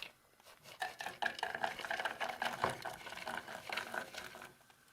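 Pecans stirred into browned butter in a pan, a quiet bubbling sizzle with soft scraping and clinking of a utensil against the pan, fairly faint.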